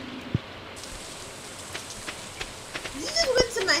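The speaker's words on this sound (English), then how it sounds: "I hear rain." Steady rain patters in the Stardew Valley farming game, a soft continuous hiss with scattered drop ticks, heard under a player's talk and game sound effects.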